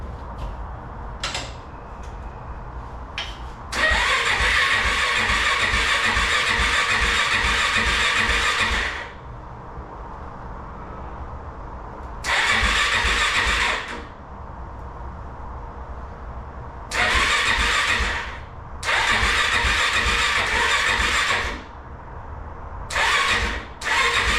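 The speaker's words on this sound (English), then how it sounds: "let's fire this thing over a little bit, get some oil through the engine, see if we got spark" An ATV engine (Kawasaki KFX400) cranks in several bursts separated by pauses, each a loud whirring turnover lasting a few seconds, with brief clicks between attempts.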